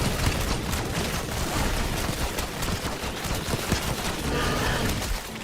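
Rapid, dense shotgun fire from the Black Ops 6 Zombies mode, steady loud blasts with no gaps across the whole stretch, amid constant battle noise.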